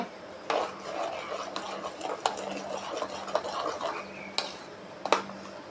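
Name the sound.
stirring a cleaning solution to mix it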